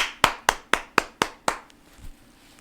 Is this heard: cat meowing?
no